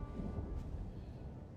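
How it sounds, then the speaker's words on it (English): Thunder in a video game, a faint, low, distant rumble rolling steadily beneath a soft hiss, with no voices. "I hear thunder."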